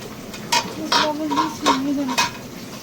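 A spoon stirs fish curry made with small shrimp and rohu fish head in a pot, giving five sharp scraping clacks at a regular pace over a faint sizzle, with a voice speaking nearby.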